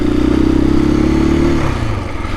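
A KTM EXC-F 500 dirt bike ridden on the Timberline Trail, its engine a loud, close, steady droning hum that drops in pitch near the end as the throttle eases.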